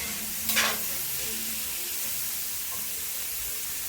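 Enchilada sauce simmers in a pan with a steady, soft sizzling hiss, and a brief brighter burst of sputtering early on before it settles back to an even, quiet bubbling.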